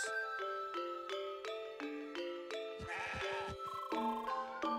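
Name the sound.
goat bleating in video game CrossCode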